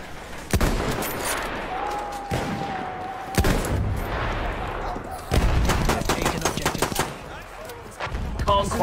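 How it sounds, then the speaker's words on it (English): K-bullet rifle fire hammering a landship tank in Battlefield 1, loud sharp shots at an irregular pace with rapid clusters, under a commentator's narration. "this landship takes a pummeling with the K-bullets"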